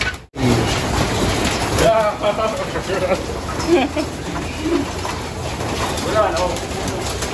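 Racing pigeons coo throughout a loft, their soft repeated calls overlapping under someone talking and steady background noise.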